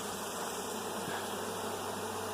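Honey bees buzz in a dense, continuous drone inside an open hive during an inspection, close and steady with no talking.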